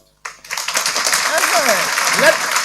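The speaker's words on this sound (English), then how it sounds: "The applause is not so loud." A conference hall audience at the Ghana Physician Assistants Association annual general conference claps after a sudden start, a fairly subdued wash of applause, with a voice speaking over it.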